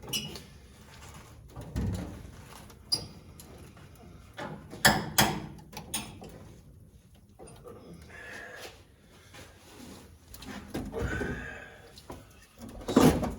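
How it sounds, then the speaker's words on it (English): Creaking, scraping metal as a stiff, rusty door on a 1940 Ford is forced open in jerky pulls, with clunks and faint knocks close by. "we ought to be able to open this door further"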